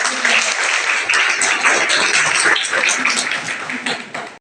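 Students clapping at a college induction ceremony in a hall, a steady, dense round of applause that carries on for several seconds before cutting off near the end.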